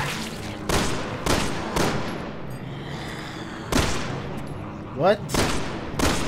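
Rapid bursts of gunfire from Resident Evil 6, several loud separate volleys spread across the moment, with a voice speaking briefly between shots.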